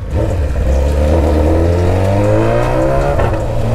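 A BMW S1000 motorcycle revs loud and close, its engine note holding steady and then climbing in pitch, with a brief surge of higher tone near the end.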